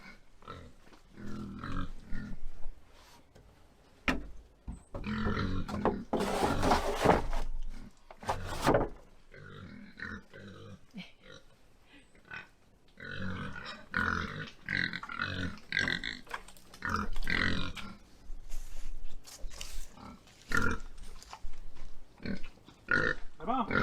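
Pigs grunt and snuffle in short irregular bursts as they are let into their pen on an off-grid homestead, mixed with wooden knocks and rustling nearby.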